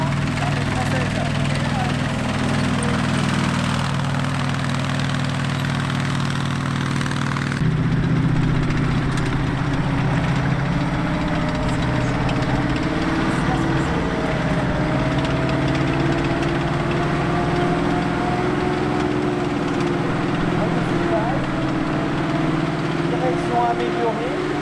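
A tank's A57 multibank 30-cylinder engine runs at a D-Day 80th anniversary tanks day, a steady, loud droning rumble that continues throughout while people talk over it.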